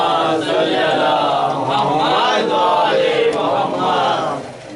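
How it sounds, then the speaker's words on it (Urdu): A religious crowd at a Muharram procession and majlis for Imam Hasan Askari loudly chants salawat in unison, a dense, sustained roar of many voices rising and falling for several seconds before fading at the end. "بلند نعرے سلوات۔"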